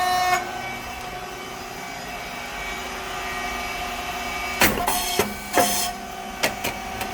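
A SYP4506 rice cake machine running at 260 degrees: a steady mechanical hum with faint tones, then several sharp hissing bursts and clunks near the end.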